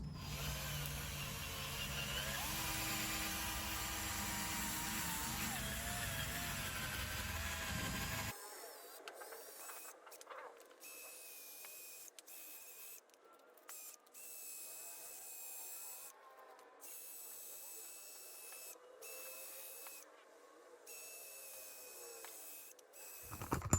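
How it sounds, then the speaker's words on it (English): A power buffer works over an FJ Cruiser headlight during restoration, a steady whining motor hum that gives way to a thinner, uneven grinding with repeated brief pauses, close and moderately loud. "So I'm going to go ahead and start buffing this."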